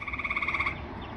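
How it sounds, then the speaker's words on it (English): Frog croaking in a backyard, a quick rapid pulsing trill lasting under a second, faint and somewhat distant against quiet night ambience. "same freaking frog's been coming around for four or five years now"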